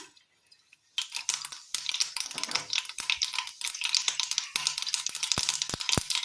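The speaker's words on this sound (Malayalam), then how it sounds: "ചൂടായ എണ്ണയിലേക്ക് കടുകിട്ട് കൊടുക്കാം" Mustard seeds hit hot oil after a quiet moment and burst into a busy, close run of sharp pops and crackles that keep spluttering irregularly to the end.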